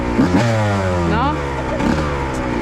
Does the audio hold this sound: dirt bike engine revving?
yes